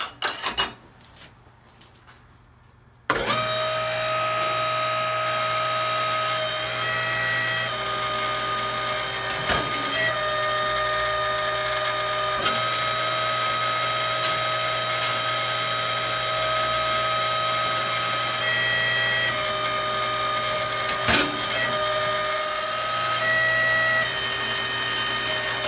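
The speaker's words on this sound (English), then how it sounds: "next we're going to cut 3 more plates for our bench with the shear" A shear cuts steel plates for a blacksmith-built bench: after a quiet start, a machine hum kicks in and runs steadily, broken by occasional sharp metallic clanks and cuts, close and constant for the rest of the time.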